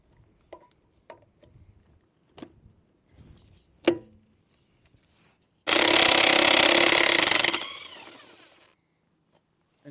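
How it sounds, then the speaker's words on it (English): A few light clicks and taps, then a loud DeWalt cordless impact wrench rattles hard for about two seconds loosening a swollen lug nut on a Ford F-150, before stopping and winding down. "We're just going to take our Dewalt impact"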